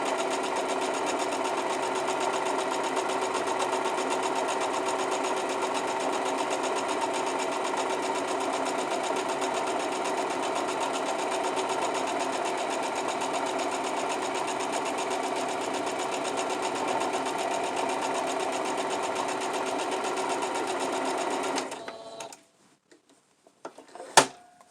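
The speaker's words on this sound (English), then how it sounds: "I'm just sewing 1/4 inch all the way down." Close, steady whirring of a sewing machine stitching quilt pieces with a 1/4 inch seam, running continuously for over twenty seconds before stopping abruptly, followed by a few small clicks.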